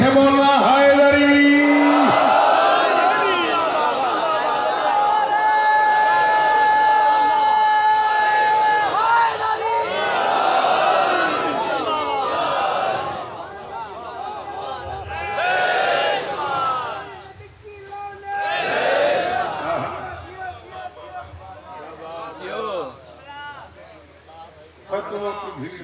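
Large crowd at a Muharram majlis in Larkana shouting 'Haidari' back in unison, a loud swelling roar of many voices, interspersed with a speaker's voice.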